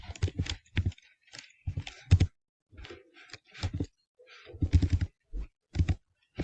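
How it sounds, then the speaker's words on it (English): Typing code on a computer keyboard, a run of close, irregular key clicks in short bursts with brief pauses, no talking. "Now I'm gonna type in system dot"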